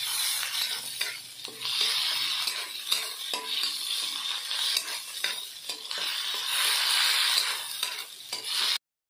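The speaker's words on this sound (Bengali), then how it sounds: "আদাটা ভালোভাবে কষিয়ে নেব" Ginger paste is stir-fried in a pan, a soft sizzle broken by frequent scraping spoon strokes and light clinks, close but fairly quiet, ending abruptly.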